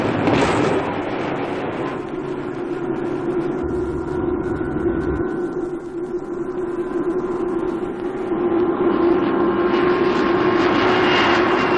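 An Aeroflot airliner at Sheremetyevo airport finishes its flight with a loud, steady jet-engine roar that swells and eases slightly, close and continuous, with no voices.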